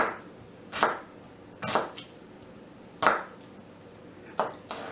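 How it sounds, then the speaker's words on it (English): An onion is coarsely chopped with a knife on a cutting board while shrimp fried rice is being made; four or five sharp, separate knife strikes fall at an uneven pace, close and clear, with no talking. "just a little chop, just a coarse chop"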